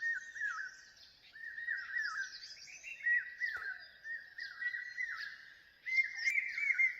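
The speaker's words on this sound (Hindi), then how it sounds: "सुबह सुबह इन पक्षियों की आवाज़ सुनिए जो सुबह सुबह चहचहा रहे हैं।" Several birds chirp and tweet in the morning in the mountains, overlapping calls, bright and fairly close, with steady twittering throughout and no voices.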